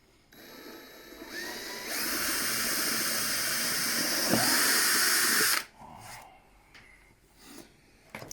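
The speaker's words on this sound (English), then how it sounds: "Take our drill and drill a second hole." A power drill whines loudly and steadily for several seconds drilling a hole while building a hedgehog house, then cuts off, leaving faint clatter and handling noises nearby.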